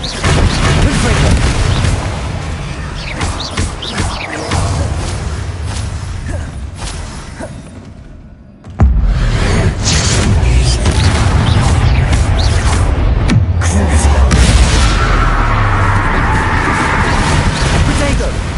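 Confringo spell blasts in the video game Hogwarts Legacy, a dense run of booming fiery explosions and crackling bursts with a short drop-out midway, under a voice calling spell names.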